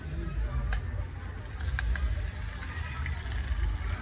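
Curry leaves hit hot oil already holding cinnamon and chili during tempering for a fasting dish, giving a quiet, continuous sizzle with a few sharp crackles.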